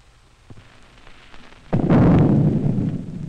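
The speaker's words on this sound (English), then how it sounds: "This is an atomic bomb, a chain reaction, out of control, releasing a great amount of energy." An atomic bomb detonates in 1953 film footage, a sudden loud blast that erupts after a quiet stretch and rolls on as a sustained, heavy rumble.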